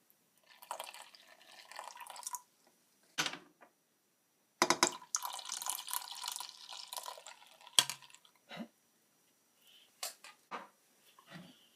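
Beer poured slowly into a pot for a historical butter beer recipe, heard as bursts of splashing and dripping liquid separated by short pauses, close and fairly quiet.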